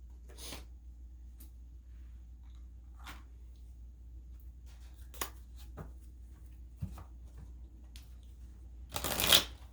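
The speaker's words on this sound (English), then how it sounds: "these cards are flying all over the place" Tarot cards shuffled and handled in several brief riffling bursts, with quiet gaps between them and a louder flurry of card noise at the end.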